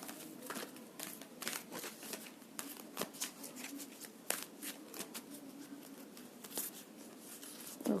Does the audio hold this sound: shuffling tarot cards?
yes